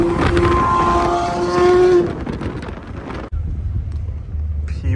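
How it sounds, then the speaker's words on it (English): A McLaren F1 GTR Longtail race car at Monterey Car Week roars loudly with a harmonic engine note for about two seconds, then recedes, leaving a lower rumble and wind noise. "F1 GTR, we saw this car in 2019. It sounds insane."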